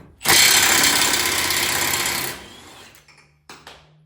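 A Milwaukee power tool spins a 36 mm socket during a turbocharged Honda Civic Si FA5 engine teardown, a loud close whirring burst of about two seconds, then winding down with a few short clicks and a brief trailing buzz.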